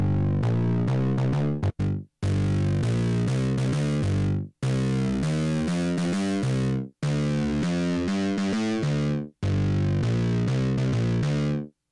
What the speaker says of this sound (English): let's add some scream distortion to our bass line